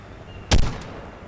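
A single sharp gunshot rings out in the ARK Mobile video game as a player fires at an attacking allosaurus on a coastline, one loud near crack that rings briefly and fades into quiet game ambience.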